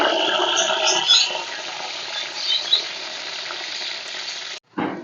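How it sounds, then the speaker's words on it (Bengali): Potatoes fry in hot oil in a pan with a dense, crackling sizzle and bubbling that stays loud and close, then cuts off abruptly near the end. "আলুগুলো ভেজে নেব।"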